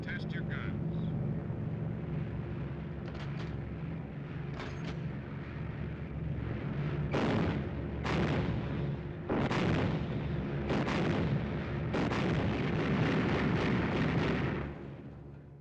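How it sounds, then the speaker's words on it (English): Gunners aboard a World War II bomber test-fire their machine guns in a 1949 war film, several loud bursts of rapid fire over the steady drone of aircraft engines, with radio-style voices at times. "Savage to gunners. Okay to test your guns."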